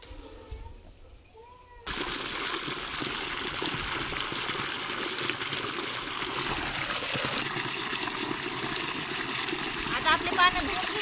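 Water runs steadily while small homegrown colocasia (alu) leaves are washed outdoors at a farm. A continuous close trickle and splash starts abruptly and keeps going, with faint background noises and a voice speaking over it.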